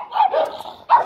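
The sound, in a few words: dog barking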